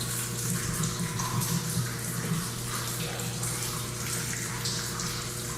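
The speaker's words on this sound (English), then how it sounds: "There's water dripping, which drowns out the sound somewhat" Water running and splashing steadily inside an abandoned mine tunnel near rusted old gear, a continuous wet wash with a low hum beneath, fairly loud and unbroken throughout.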